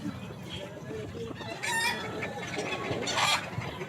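A ten-month-old Golden Boy gamefowl rooster on a game farm clucks in short bursts, with brief louder calls near the middle and end over a steady background of other fowl noise.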